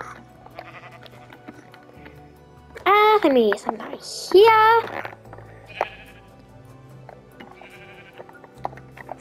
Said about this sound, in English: And now the next animals we need are sheep.